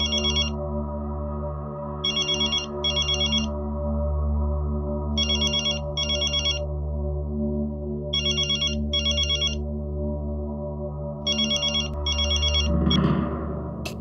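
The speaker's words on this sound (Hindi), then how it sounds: "इस वक्त टप्पू का फोन?" A phone ringtone chirps in repeated short electronic bursts, paired with regular pauses, over a low steady background hum at night; a brief rustle near the end.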